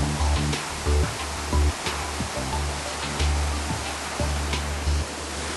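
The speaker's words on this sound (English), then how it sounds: "It's the second waterfall." Steady rushing roar of falling water at Hanging Lake fills the scene, broad and constant, with occasional low thumps and bumps close by.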